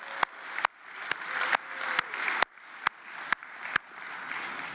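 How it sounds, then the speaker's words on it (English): Scattered claps and a few sharp slaps ring out over a steady crowd murmur, like a modest group applauding in a large hall at a Metro line opening ceremony. "Let's give ourselves a round of applause."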